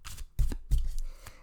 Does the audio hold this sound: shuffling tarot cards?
yes